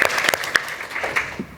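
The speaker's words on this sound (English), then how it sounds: "let's give a round of applause for that." Audience members at a panel discussion give a brief burst of applause. The clapping is scattered and moderately loud, and it fades within a second or two.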